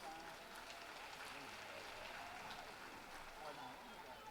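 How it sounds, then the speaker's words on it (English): A university commencement audience applauds in a large indoor hall, a steady roar of many hands clapping at once that carries evenly from start to finish, with voices murmuring underneath. "Turner, a nice round of applause for those remarks"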